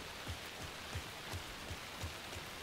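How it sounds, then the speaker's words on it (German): Rain falls steadily in the video game Alan Wake II as a soft, even hiss. Faint low thuds recur about every half second beneath it. "Da kann noch nicht viel Chemie im Regen stecken, ist noch kein saurer Regen."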